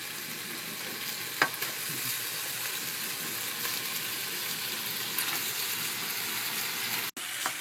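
Chicken curry with tomato fries in a pan while the pieces are stirred into the spice mixture, producing a continuous close sizzle with soft scraping and a couple of sharp knocks. No one speaks.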